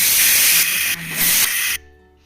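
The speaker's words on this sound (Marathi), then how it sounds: "तोपर्यंत आपल्या कुकरच्या शिट्ट्या पण होत आहे" A pressure cooker whistle hisses steam loudly and close, a continuous jet that dips briefly in the middle before cutting off near the end, leaving only faint room sound.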